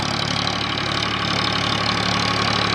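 A tractor engine runs steadily in a millet field during harvest work, a close, loud, even chugging drone with a knocking pulse and no break, no voices over it.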